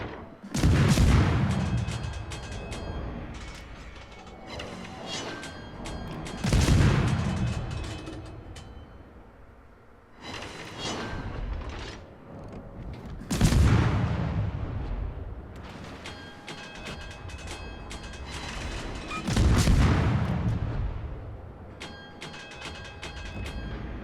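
Naval gunfire in World of Warships from an Italian tier 7 premium destroyer battle, with repeated heavy booming salvos every few seconds over a constant rumbling engine and sea background.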